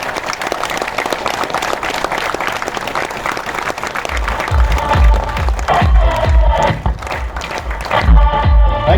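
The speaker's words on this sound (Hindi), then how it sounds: "थोड़ा देर तक ताली बजाइए" Sustained audience applause from a crowd at a motivational training seminar, dense clapping throughout with heavier, louder bursts of claps building toward the end, without speech.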